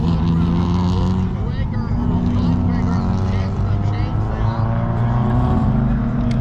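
A BMW running an autocross course, its engine droning loud and steady throughout with shifting pitch as it works through the last corners, with a commentator talking over it.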